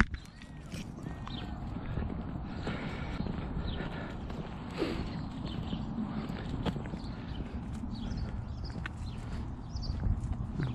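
A pony's hooves clip-clop on a muddy farm caravan site, soft irregular steps fairly close amid outdoor ambience.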